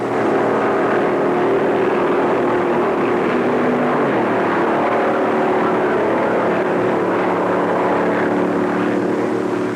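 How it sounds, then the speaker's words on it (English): Stock car engines roaring around the Darlington track during the 1956 Southern 500, a loud, continuous droning rumble with a slightly wavering pitch, heard as a single sustained mass of engine noise. "old 99 roars down the straightaway to begin the last lap"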